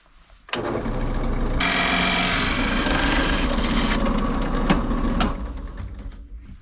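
A power drill whirs into wood, boring a hinge hole in a cabinet door for several seconds, its pitch shifting as it bites deeper, then winds down and stops.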